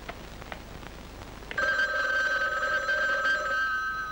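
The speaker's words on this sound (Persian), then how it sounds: "ببین تلفن با کی کار داره" A telephone rings with a bright electronic tone, starting suddenly after a quiet moment and continuing steadily near by.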